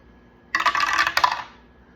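A die is rolled for a money-saving envelope challenge, making one short, close clatter that lasts about a second before it settles.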